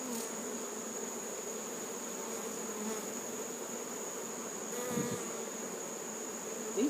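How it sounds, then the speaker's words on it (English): Honey bees buzz around an open hive, a steady close droning hum with individual bees passing near the microphone, continuous and fairly quiet, with a few handling bumps and no talk. "These bees are actually pretty tame."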